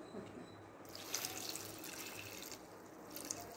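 Water is poured into a cooking vessel holding jaggery to make syrup, a faint, steady splashing trickle with a few brief louder spurts, close by and without talk.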